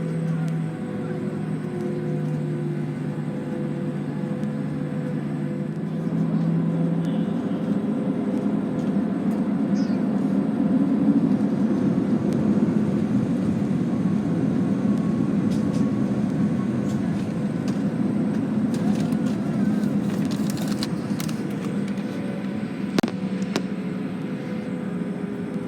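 Steady low cabin rumble inside an American Airlines Boeing 737-800 taxiing at LaGuardia, constant engine and rolling drone with faint rattles and no talk.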